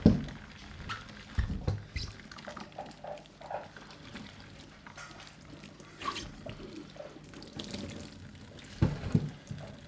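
Running water splashing and trickling over boots being rinsed clean, irregular pours and drips with occasional louder splashes, close by and without talk.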